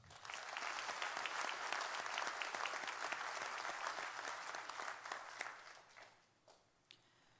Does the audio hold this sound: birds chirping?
no